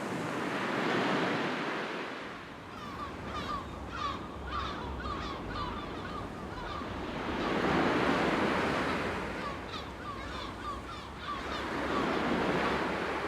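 Seaside surf rolls in and washes out in slow swelling surges, with crows cawing in bursts between the waves and a soft wind rush underneath.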